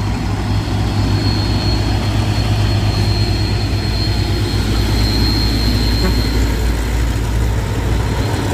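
A long truck climbs Bukit Kodok hill with a steady, loud diesel drone that holds close and even throughout, no voices over it.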